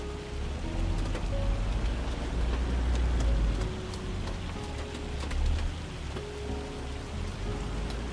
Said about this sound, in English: Rain is in the field.